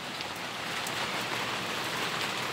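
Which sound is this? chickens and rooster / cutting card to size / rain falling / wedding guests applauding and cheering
rain falling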